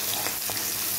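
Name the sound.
spiced curry frying in a pan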